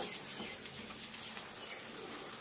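Water pours steadily over a person's head while their hair is shampooed, a continuous close splashing rush like a running tap, with no voices heard.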